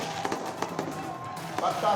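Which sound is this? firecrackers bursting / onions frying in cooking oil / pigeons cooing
firecrackers bursting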